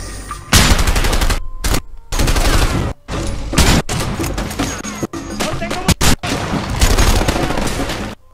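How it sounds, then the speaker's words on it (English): Rapid bursts of gunfire in the video game A Way Out, loud volleys and single shots in choppy clusters separated by brief silences, with a voice talking faintly under the shooting. "Ah, why am I getting shot?"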